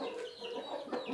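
A rooster clucks softly on a farm, giving a few short, low clucks over a steady faint background with no talking.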